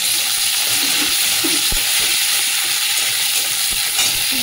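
Chopped onions hit hot oil already tempered with Bengali five-spice and a dried red chili, giving a steady, close, continuous sizzle with a few light stirring knocks and no talking.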